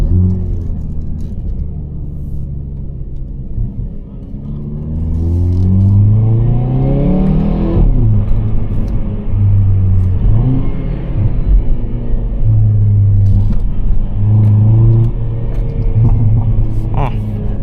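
A 2024 Hyundai i30N with a 206 kW engine on a night drive, its engine droning and rising through the revs while the car accelerates, the exhaust rumbling close and loud, with talk over it.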